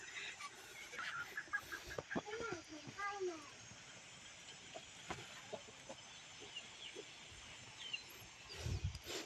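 Chickens cluck in short, scattered bursts at a rural Thai home, fairly close and moderate in volume, with a voice and other talk mixed in among them.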